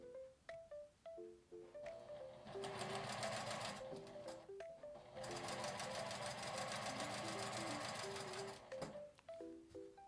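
A sewing machine stitching fabric, running in two long sustained bursts of rapid mechanical clatter with short pauses and faint start-stop clicks between them.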